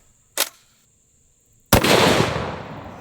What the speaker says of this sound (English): This is a Nemo Arms Nightmare, and I'm gonna be loaded up with some Underwood ammo, 300 Win Mag